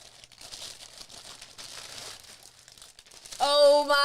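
Plastic packaging around new shower curtains is torn open, giving close, continuous crinkling and rustling, followed by a sudden louder tonal burst near the end.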